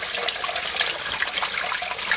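Water flushing out of an iron ochre remover system, a steady broadband hiss and splash of rushing water, loud and continuous with no talking.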